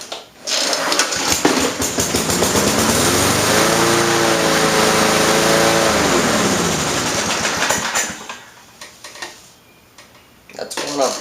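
Gas-powered backup equipment engine, such as a generator, cold-starting: a sharp pull, then a loud rattling idle that runs for several seconds and cuts out, followed by fainter mechanical clatter.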